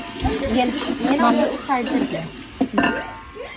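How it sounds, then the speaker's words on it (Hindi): Fried onions with tomato and green chili paste on a village stove, giving a soft sizzle and scraping stirs while voices talk over the cooking. "मामी जान ने प्याज भून करके टमाटर हरी मिर्च का पेस्ट भी डाल लिया"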